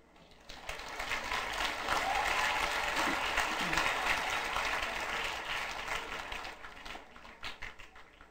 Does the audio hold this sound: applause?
yes